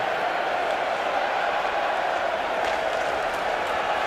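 A hockey arena crowd at an IIHF World Championship game between Finland and Norway in Tampere roars in a continuous dense wash of cheering as fans do the wave, steady and loud throughout.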